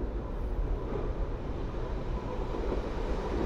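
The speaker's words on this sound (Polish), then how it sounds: "Pociąg lotniskowy, kierunek Warszawa Lotnisko Chopina" Airport train bound for Warsaw Chopin Airport passing Warszawa Powiśle station, a continuous low rumble of rolling stock heard up close and steady throughout.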